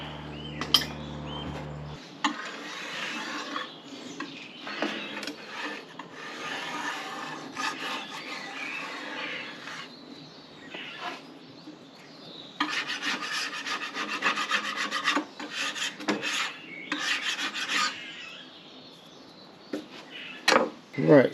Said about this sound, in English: I've just gone along with the scraper, took off the silicone around where the taps were and gone around where the hob was